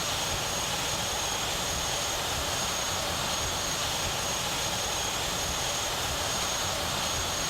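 A propeller airplane in the Minecraft Immersive Vehicles mod drones steadily in flight, a faint, even engine hum with a constant high whine that holds across the whole stretch with no voices.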